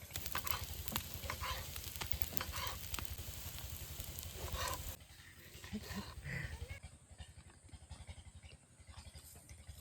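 Mandeli fish fry on a tawa beside a river, giving a loud, dense sizzle with crackles and sharp pops that softens abruptly halfway through into quieter, sparse frying.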